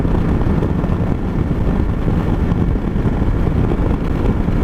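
A KYMCO CV3 three-wheeled maxi scooter rides uphill, a steady, loud low engine drone mixed with heavy wind rush, continuous and unbroken throughout.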